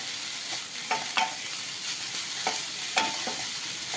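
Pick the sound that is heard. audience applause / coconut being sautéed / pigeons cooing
coconut being sautéed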